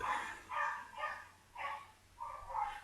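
A dog barks about five times in a steady rhythm, each bark a short, moderately loud burst with a slightly muffled tone, and no voices are heard over it.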